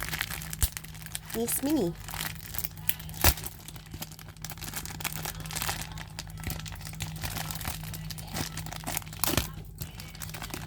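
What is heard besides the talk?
packaging crinkling as it is opened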